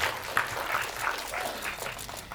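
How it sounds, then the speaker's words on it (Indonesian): Media crowd at a film press conference for the cast of Sinden Gaib gives a steady, moderately loud round of applause lasting a couple of seconds, with no voices over it. "Boleh tepuk tangan teman-teman media untuk seluruh jajaran cast."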